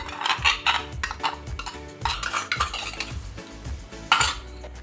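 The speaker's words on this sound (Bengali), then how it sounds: "এটা দেব আর নাড়বো একটু স্টক দিয়ে গুলে নিই" Chicken stew with stock stirred in a metal pot: repeated utensil scrapes and clinks against the pot in an uneven rhythm, close and fairly loud, with no talking.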